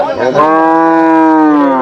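A dairy cow at the Chettithangal cattle market moos once in a long, loud, steady call that swells and holds for nearly two seconds, close by with no talking over it.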